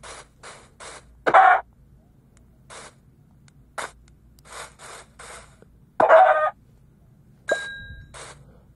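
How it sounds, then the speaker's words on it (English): Minecraft chickens cluck in short, soft bursts scattered across the scene, with a few louder flapping or hurt sounds and a brief chime, heard alone without talk. "And here's a chicken."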